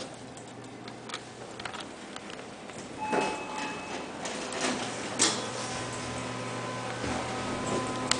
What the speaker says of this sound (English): let's ride the elevator.